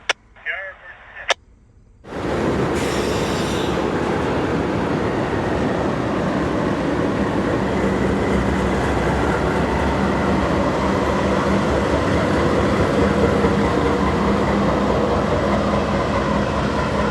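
A train rumbles loudly and steadily through Brattleboro Yard in New England after a short burst of radio chatter, the heavy roar continuing without a break to the end.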